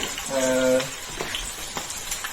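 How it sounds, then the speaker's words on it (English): Ingredients for Yibin burning noodles frying in hot oil over low heat, a brief soft sizzle and crackle with faint stirring sounds. "when the oil is hot, you put all the ingredients into the oil, and so fry it"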